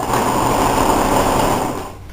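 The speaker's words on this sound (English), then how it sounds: "I'm going to place it on my sewing machine and I'm going to sew this at a 5/8 of an inch" A sewing machine stitching a blazer shoulder seam runs in one steady, close whirring burst and stops near the end.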